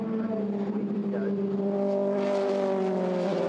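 British F3 race cars at Becketts corner on the circuit, engines droning steadily as they approach over a crest and sweep past, a continuous loud roar with rising pitch near the end.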